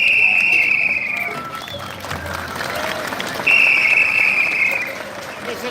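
Applause at a traditional festival parade in Huanta, Peru, spreading through a crowd with loud whistles rising over it, steady and continuous throughout.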